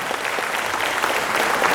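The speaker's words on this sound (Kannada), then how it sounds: "ಜೋರಾಗಿರುವಂತಹ ಕೈ ಚಪ್ಪಾಳೆ ಬರಲಿ" Applause at a hall inauguration ceremony where children are being honoured, with a crowd clapping loudly and steadily in a dense, even patter for almost two seconds without any speech.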